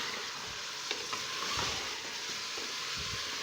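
Mutton browning in a pressure cooker gives a steady, close sizzle with the occasional clink and scrape of stirring.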